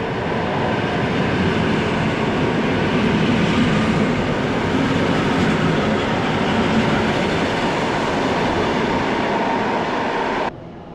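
A Polregio ED72 electric multiple unit running from Warszawa Centralna to Łódź Fabryczna passes close by with a loud, continuous rumble and rattle of wheels that holds steady before dropping off abruptly at the end.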